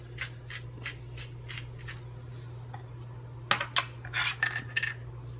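A utensil stirs and scrapes cheese sauce in a pot for baked mac and cheese with chorizo: a run of soft rhythmic scrapes, then sharper metallic clinks and taps against the pot, over a steady low hum and with no talk.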